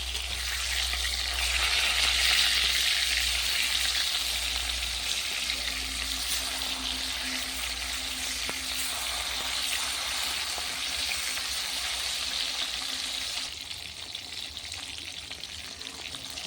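Flipped fish fries in hot oil in a pan over a clay stove, a steady broad sizzle holding for most of the stretch, then easing slightly near the end, with no talk.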